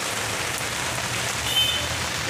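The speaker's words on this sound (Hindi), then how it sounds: "ये देखिए कितना तेज बारिश हो रहा है" Heavy rain pours steadily, a dense continuous hiss of drops hitting surfaces, loud and close with no pauses.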